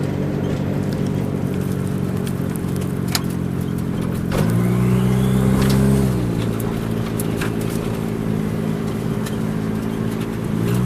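Turbocharged car engine running at a high idle, a steady loud hum that rises briefly in pitch around the middle and then settles back to an even drone, close to the microphone.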